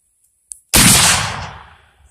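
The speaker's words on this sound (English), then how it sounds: "I'm shooting basically one-handed here." A single loud, sharp shot from a 45-70 Government rifle, fired one-handed at a baseball target outdoors, cracks after brief quiet and trails off in a long fading echo.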